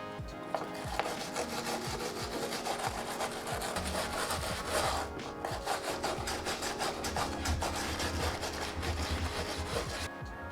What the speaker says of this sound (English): I'm gonna go ahead and kind of scrape all the places where I want a plastic weld